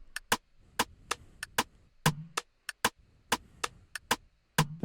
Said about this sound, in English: I also used one of my own perk loops, which sounds like this